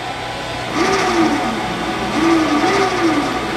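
A Bruderer flattener machine runs at slow jog speed in reverse, a steady mid-pitched motor hum with faint rising and falling whine, swelling slightly twice over a few seconds, with no talk.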